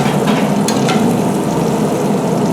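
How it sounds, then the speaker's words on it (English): Food frying and sizzling on a grill beside steaks, corn and potatoes while it is stirred, giving a steady close crackle with a few brief scraping accents and no talk. "Give everything else a stir."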